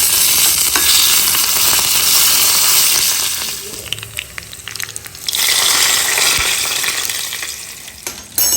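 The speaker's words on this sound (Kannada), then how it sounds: "ಇವಾಗ ಎಲ್ಲ ಚೆನ್ನಾಗಿ ಚಟಪಟ ಅಂತ ಸಿಡ್ತಿದೆ" Mustard seeds, spices and curry leaves crackle and sizzle loudly in hot oil for a tempering, a dense spattering hiss that dips briefly mid-way before surging again.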